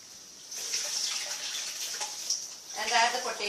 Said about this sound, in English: I'll just strain the water and adding the remaining potatoes.